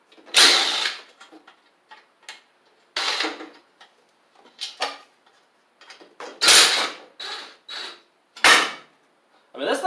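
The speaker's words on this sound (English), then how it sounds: "Get these two bolts off here." A T40 driver works bolts loose on the engine of a Troy-Bilt Pony riding mower, giving sharp, close ratcheting and metallic bursts in irregular spurts separated by short pauses.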